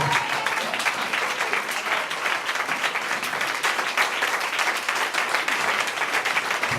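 A church congregation stands and applauds the Lord, a dense, continuous wash of clapping that stays loud and even throughout with no pauses.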